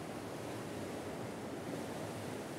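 Ocean waves wash steadily onto the shore at sunset, a dense, continuous broadband roar with no breaks and no voices, fairly even in loudness throughout.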